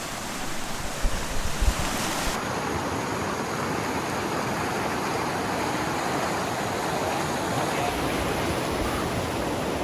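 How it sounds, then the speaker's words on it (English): A river rushing at a wide crossing on a mountain trail in the Eagle Nest Wilderness, a loud and constant roar of water that fills the whole stretch, with no talking. "This is probably our biggest river crossing yet."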